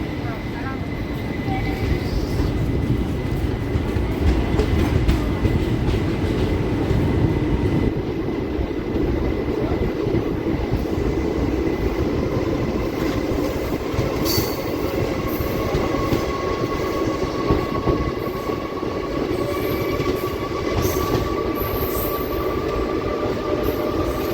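The Palnadu Express rolls on after leaving Nalgonda, heard from inside a 3AC coach as a loud, continuous rumble with rhythmic wheel clatter and occasional squeals, a voice speaking over it.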